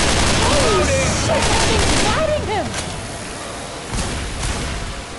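Gunfire in the co-op video game Left 4 Dead 2, a loud burst of rapid shots up front with scattered further shots later, mixed with game noise and players talking over it.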